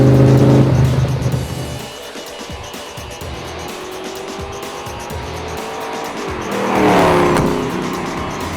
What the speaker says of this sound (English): this Mark III Coupe has a 351 in it, fairly mild, only 385 horsepower